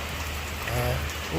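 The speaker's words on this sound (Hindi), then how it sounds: "ये बारिश का नज़ारा थोड़ा सा मिला है हमें" Steady rain falling during a trip to Tirupati, a dense even hiss of drops on surfaces with a brief spoken word over it.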